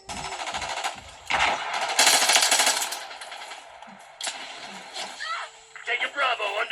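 Automatic gunfire in Call of Duty Warzone played on a Redmi Note 14 Pro Plus phone: loud bursts and rattling shots mixed with explosions and in-game voices calling out.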